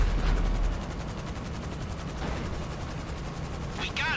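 Rapid gunfire in the video game GTA Online, a fast, even string of shots running continuously at close range, with a short burst of brighter noise near the end.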